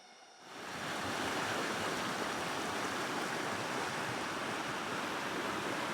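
Flowing water of a mountain headwater stream at Chiew Lan, Thailand, rushes steadily and fairly close, a constant broad wash that swells in after a quiet first moment.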